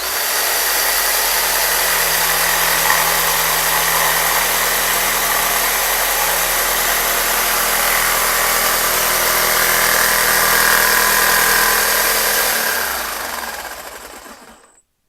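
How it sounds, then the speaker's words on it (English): A jigsaw cutting wood runs continuously at a loud, steady pitch with a slight buzzing vibration, then winds down and stops at the end. "when you want to cut a piece of wood, always start the saw blade"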